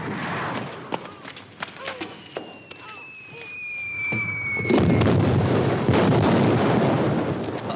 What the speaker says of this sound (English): That ain't thunder, that's cannon fire.